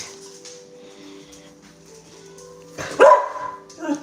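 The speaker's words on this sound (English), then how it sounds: "Please don't bark. You scared me." A dog lets out a sharp, loud bark close by after a quiet stretch, followed by a softer second yap.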